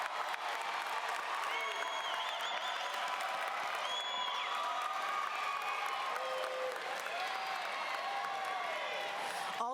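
A large audience at the 2019 Meadowbrook High School graduation applauds steadily throughout, a dense wash of clapping with scattered cheers and rising whoops over the top.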